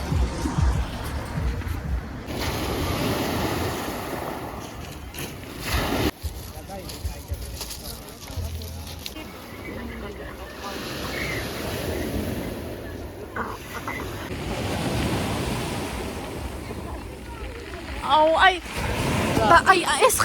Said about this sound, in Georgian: აი ეს ხმა რომ ესმის და აი ეს ტალღებს რო ხედავ